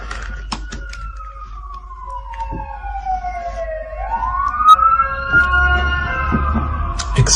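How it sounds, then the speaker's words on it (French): An ambulance siren wails past on a street in the United States, its pitch sliding down and then back up, loud and near, over low traffic rumble and scattered clicks. "On a les ambulances qui vont passer."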